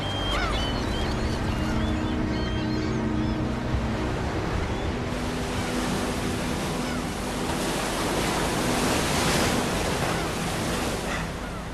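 Sea waves wash steadily against the shore, a continuous broadband surf roar that holds at an even level throughout with a breezy hiss, no voices.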